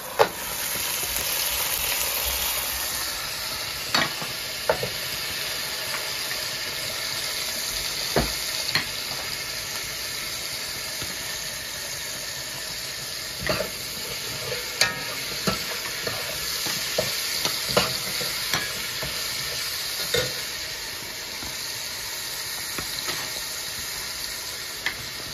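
Tomato frying and stirred in a pot for a cassava and mackerel stew makes a steady close sizzle, broken by repeated sharp scrapes and clacks of the spoon at irregular intervals, with no talk.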